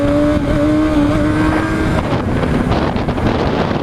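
A motorcycle engine revs hard during a clutch-up wheelie, a loud rising whine that drops and roughens into a throaty roar, under heavy wind noise from riding.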